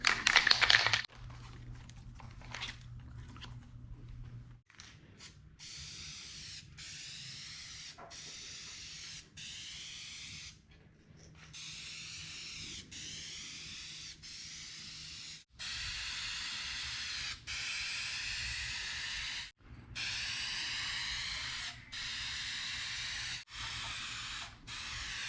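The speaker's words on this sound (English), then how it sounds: "The latches are sprayed as well." Dupli-Color universal black spray paint hissing from an aerosol can onto a Jeep Wrangler cowl, a series of close, steady sprays in bursts separated by short pauses.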